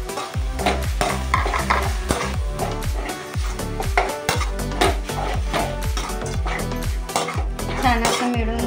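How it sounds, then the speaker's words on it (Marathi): A roasted eggplant mixture stirred in a pan, with rapid rhythmic scraping and clanking of a spoon against the metal pan over a soft sizzle, close and continuous. "छान असं मिळून घ्यायचं याला आणि छान शिजू द्यायचं 5-10 मिनिटं"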